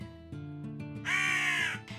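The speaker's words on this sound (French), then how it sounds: "Un corbeau voltait au-dessus du cadavre avec ses deux petits." A crow gives a single harsh, drawn-out caw, used as a story sound effect, over a soft background of low sustained tones.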